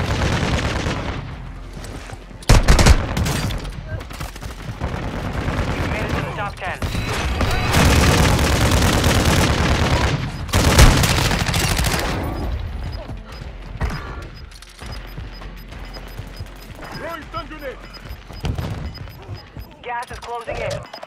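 Battle royale game combat: dense bursts of gunfire and booms under a continuous wash of game sound, with an announcer-style voice speaking.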